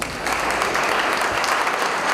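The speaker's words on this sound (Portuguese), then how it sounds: "Uma salva de palmas." An audience at an academy induction ceremony bursts into applause, dense and steady clapping that fills the whole moment with no talk over it.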